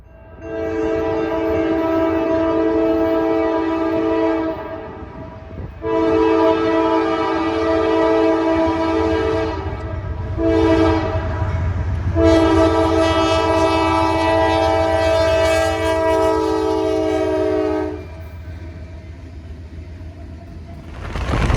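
A Norfolk Southern manifest freight train, NS-131 led by locomotive NS-4193, passes on its way to New Orleans, blowing several long chord horn blasts with short gaps over a deep, steady rolling rumble, loud and close, with no talk.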